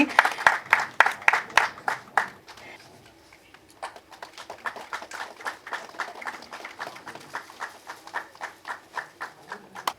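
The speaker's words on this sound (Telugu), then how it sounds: "ఒక్కసారి గట్టిగా చప్పట్లు వినిపించాలండి" A crowd at a Telugu film's success meet claps in quick, rhythmic bursts, pauses briefly, then starts clapping again in a steady beat.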